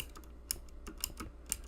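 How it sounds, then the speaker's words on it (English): Clicky mechanical keyboard keys tapped in a quick, uneven burst of several sharp strokes, fairly close and alone, during Minecraft play. "I do apologize for the noise my mechanical keyboard makes."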